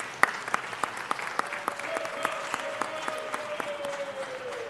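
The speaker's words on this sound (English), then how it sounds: "let's just give them a round of applause for all of the good work" Applause at a city council meeting, a modest room of people clapping with distinct individual claps standing out, fairly faint and distant, while a sustained tone hums underneath.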